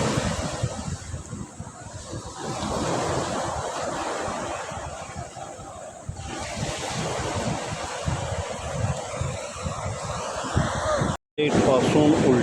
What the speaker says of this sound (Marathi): हा मस्त छान समुद्रकिनारा आहे